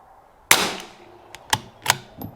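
A single sharp, close crack from a .22LR rifle firing Lapua Center X match ammunition at an outdoor range, followed by a few softer mechanical clicks.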